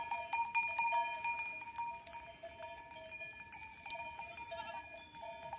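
Goats bleat at moderate distance over a faint outdoor background, with several calls overlapping and tonal ringing that may come from bells worn by the animals.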